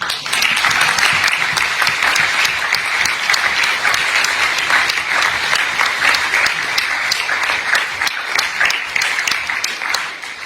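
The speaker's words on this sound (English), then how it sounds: "Give yourselves a clap." A room full of listeners bursts into sustained applause at the close of an evening debate on the resurrection of Jesus, dense clapping holding steady for about ten seconds before thinning near the end.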